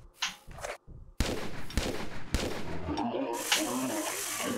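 Gunfire from the player's weapon in Tomb Raider 3 cracks out in several sharp, loud shots spaced about half a second apart, with someone talking faintly at the start and game sounds continuing after.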